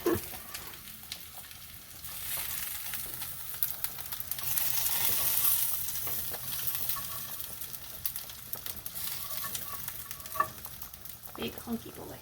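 Meatballs sizzling and browning in an Italian wedding soup pot, a soft continuous frying hiss that swells in the middle, broken by occasional clinks and stirring scrapes, fairly quiet with no talking.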